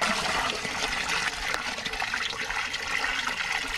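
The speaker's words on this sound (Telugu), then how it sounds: "200 లీటర్ల నీటిని నింపుకోవాలి." Water pours steadily into a 200-litre drum while Amruthajalam is being prepared, a continuous loud gushing and splashing with no voices.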